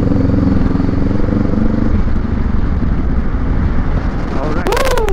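A motorcycle cruises along the SLEX expressway in Laguna during a group big-bike ride, its engine droning steadily with heavy wind rush, and a brief sharp rev near the end.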